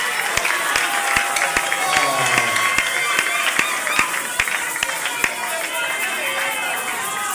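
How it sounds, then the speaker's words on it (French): A gospel concert crowd claps and cheers, with sharp, fairly regular handclaps over a steady roar of voices and a speaking voice. "Acclamons fort pour l'Éternel."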